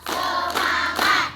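A classroom of students claps together three times, three broad, slightly ragged group claps spaced evenly, fairly close and moderately loud.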